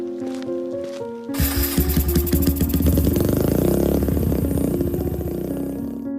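A motorcycle engine starts abruptly after a quiet moment and settles into a steady, loud idle with an even, throbbing chug up close.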